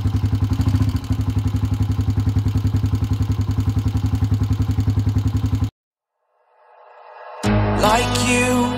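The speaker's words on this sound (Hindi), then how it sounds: "अब बाइक को स्टार्ट करते हैं" A Honda 125 motorcycle engine runs with a rapid, even putter for several seconds, cuts to silence, then restarts with a rising clatter and roars back loudly near the end.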